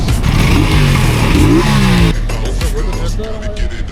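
A 150cc motorcycle engine revs hard and close, its pitch climbing in repeated rising sweeps before dropping back to a rougher, lower running sound.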